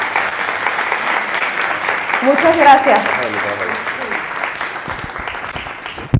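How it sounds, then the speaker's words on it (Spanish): Audience applause at a talk on the Guadalupe message in Versoix, Switzerland: steady, full clapping from a crowd for several seconds while a voice briefly thanks them over it. "Un aplauso,"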